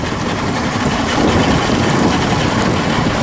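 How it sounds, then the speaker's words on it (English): A Yamaha 150 V6 outboard engine on a Boston Whaler boat idles steadily after a choke start, giving a continuous close rumble with no breaks or speech. "this Yamaha 150 V6 is idling nicely"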